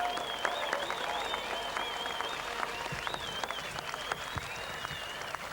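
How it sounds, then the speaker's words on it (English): Crowd applause at a speedway's 1995 Australian Sprintcar Title night, a steady mass of clapping at moderate distance with a high whistle-like tone running over it, sustained throughout. "I'd like you to give him a big rousing applause, to Bill Barrows."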